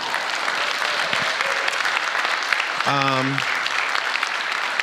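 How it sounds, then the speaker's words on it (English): A room of people clapping for guests at a community foundation event, steady full applause throughout, with a brief tonal chime or ringing sound cutting in midway. "Can we just clap for amazing bright lights in the room?"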